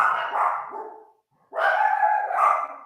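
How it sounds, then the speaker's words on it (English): A dog lets out two drawn-out, howling barks separated by a brief pause, loud and close, with no voices. "there goes my dog's barking."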